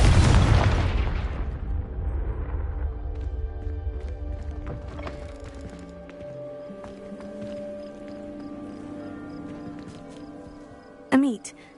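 A booming fire-spell blast in Hogwarts Legacy erupts loudly at the start and rumbles away into a lingering low tail and ambient game music, with a brief sharp effect near the end.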